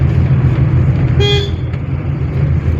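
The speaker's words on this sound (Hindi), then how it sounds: "हॉर्न दो" A single short car horn toot sounds midway over the low rumble of an idling engine.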